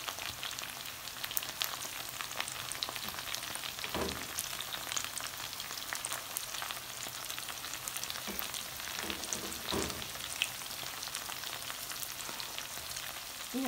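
Green beans fry in a pan with a steady, soft sizzle and crackle, and occasional louder pops and stirring scrapes come through with no voices.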